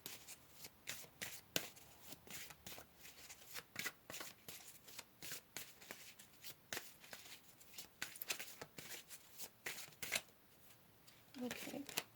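Tarot cards are shuffled in rapid, crisp riffling bursts, up close and fairly quiet, with a soft voice murmuring near the end.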